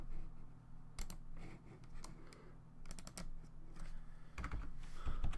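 Rust code being typed on a computer keyboard, with irregular bursts of key clicks over a low steady hum, fairly close and moderately quiet, with no voices.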